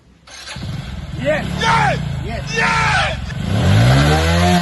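A car engine cranks, catches and starts, then revs up and settles into a steady idle, close and loud, with people talking over it.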